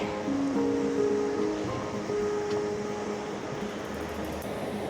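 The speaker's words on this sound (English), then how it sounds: "Oh wow, that's a creek, all right." Continuous rushing of a creek near Ketchikan, Alaska, a steady broad hiss at moderate volume with faint tonal hums mixed in early on.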